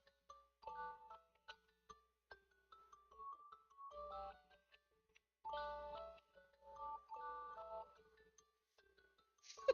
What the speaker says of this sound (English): Literally, the screen says the alarm's ringing